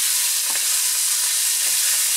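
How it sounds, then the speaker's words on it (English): Garlic sizzling in a pan for a penne and sausage dish with fresh tomato sauce, giving a steady, close hiss of frying with a couple of faint stirring scrapes. "I'm just allowing the garlic to get aromatic"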